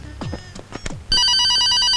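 A telephone bursts into a loud, continuous electronic ring right after a few brief voiced sounds, trilling steadily to the end.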